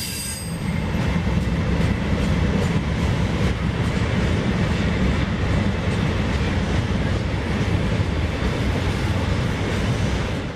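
The northbound Seaboard Coast Line Florida Special passenger train rolls past at Dreher Park in South Florida in 1970, a loud continuous roar of wheels on rails with squealing and rhythmic clacking throughout.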